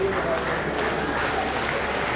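An audience claps continuously at a community fund disbursement event in Sierra Leone, a dense and even patter heard from a moderate distance, while a speaker's voice runs faintly underneath.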